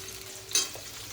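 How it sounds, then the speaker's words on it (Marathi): Chopped onion fries in a pan for masala rice, giving a soft, steady sizzle with one brief scrape of stirring midway. "आता हा कांदा आपण थोडासा फ्राय करून घ्या"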